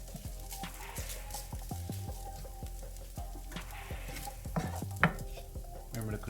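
Leftover rice stir-fried in a pan for crispy fried rice, with a steady sizzle broken by repeated sharp clinks and scrapes of a utensil against the pan, close and fairly loud with no talking.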